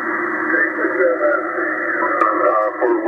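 An amateur radio signal on 40 meters comes in through a 46-foot dipole antenna: a steady, band-limited, hissy voice transmission with a faint crackle, heard alone.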